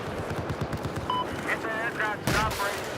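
Rapid SMG gunfire from a shooter video game, a fast stream of low bursts at moderate loudness with a brief louder blast near the end, mixed with game sounds and tonal effects under faint noise.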